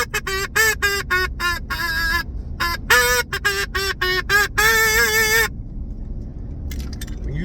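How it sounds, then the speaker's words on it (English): A duck call blown in a rapid series of nasal, honking quacks, loud and close, with short pauses between bursts and a long drawn run near the end before it stops. "When you learn to play a song into your duck call"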